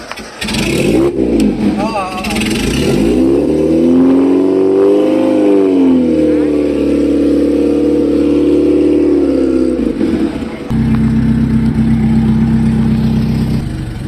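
Tuned Honda Civic engine revving hard, rising and falling through several throttle blips before settling into a steady high hum and then a lower idle-like drone, loud and close, with voices talking over it.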